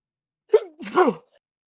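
A single sharp sneeze, a quick intake followed by a louder burst, then quiet.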